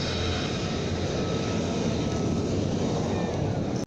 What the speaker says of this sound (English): And finally, the A-10s that just keep coming back.